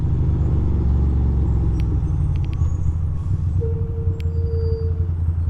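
Loud, steady construction truck engine rumble close by, with a sharp hiss and a long high whine partway through, like air brakes releasing.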